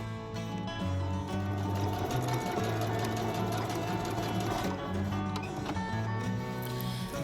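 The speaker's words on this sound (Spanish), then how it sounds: "voy a hacer una primera costura a 1 centímetro del margen." A sewing machine stitches a seam on a tote bag with a fast, steady mechanical whir and tick, running continuously at close range.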